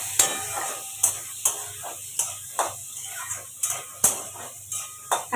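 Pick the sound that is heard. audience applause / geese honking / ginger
ginger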